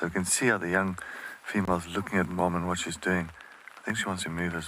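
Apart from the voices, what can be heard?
No distinct noise like a dog, phone or traffic.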